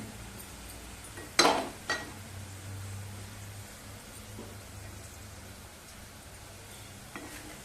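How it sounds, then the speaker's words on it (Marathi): Onion sautéing in a pan with red chili powder, giving a low, steady rain-like sizzle broken by two sharp utensil knocks early on and a faint tap near the end. "कांदा चांगला परतवून घ्यायचा बघा कांदा छान गुलाबी झालेला आहे"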